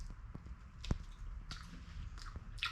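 Someone chews flatbread with soft, wet biting and mashing noises at close range, with no talk during the chewing.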